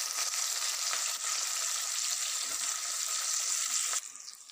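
Onion hitting hot oil tempered with panch phoron for a fish curry, a loud steady broadband sizzle lasting about four seconds before it suddenly drops to a quieter hiss.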